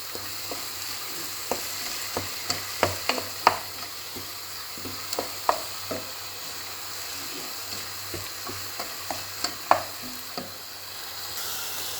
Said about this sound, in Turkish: Evet gördüğünüz gibi biraz kavurdum domates ve salçayla